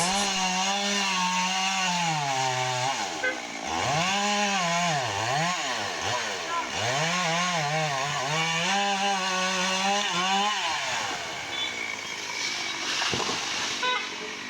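A chainsaw cuts a tree for felling in Palakkad, Kerala, its loud, close engine whine rising and falling as the throttle is worked through the cut, then easing off near the end.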